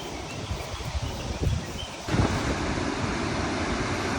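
Continuous roaring rush of water pouring out of a dam outlet in Munnar, broad and steady, growing louder and denser after a brief shift midway, with some wind buffeting on the microphone.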